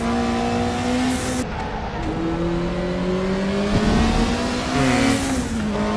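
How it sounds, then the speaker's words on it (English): BMW Group 5 race car in Raceroom at Bathurst, its turbocharged engine droning loud and steady, pitch climbing and dipping with gear changes and sluggish turbo spool, close and continuous with no talk. "that's the drawback of the BMW, is that the turbo spooling is so bad"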